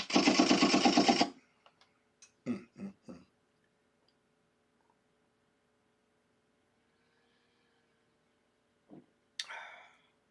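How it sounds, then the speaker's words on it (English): A rapid burst of loud automatic gunfire, then a few separate sharp shots, a long quiet stretch, and a couple of brief noises at the end. "Gunshots, man."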